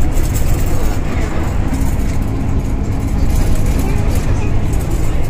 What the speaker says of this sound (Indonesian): jadi bus Transjakarta ini langsung masuk ke tol Jagorawi